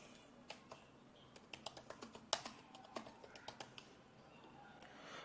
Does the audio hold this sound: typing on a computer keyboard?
yes